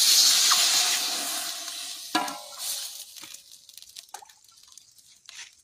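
Water is poured into a cooking pot for vegetable biryani at an outdoor picnic, a steady splashing rush for about two seconds that thins into trickles, drips and a few light metal clinks.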